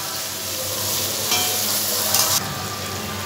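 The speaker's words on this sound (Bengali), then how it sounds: "এইবার সমস্তগুলোকে ভালো করে একটু ভেজে নেব।" Carrots, capsicum and long beans with a little salt fry and are stirred in a hot pan for chow mein, a loud continuous sizzle with scraping stirs and a brief sharper burst near the end.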